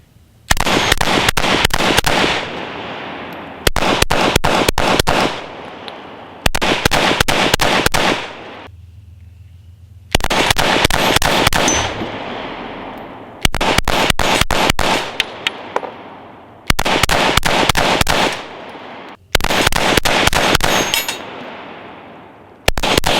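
Handgun fired in low light, about eight sharp, loud shots, most in rapid double or triple bursts, each with a ringing decay, separated by short pauses.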